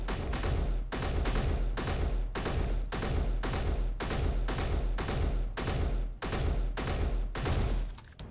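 Elite rifle in Space Engineers firing fourteen evenly spaced, loud, close shots over about eight seconds, each a sharp crack with a brief ringing tail, steady semi-automatic rhythm with no voices.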